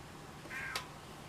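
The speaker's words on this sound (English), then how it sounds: "Sorry, my cat's meowing." A house cat gives a single short meow, faint and somewhat distant, over quiet room noise with no talking.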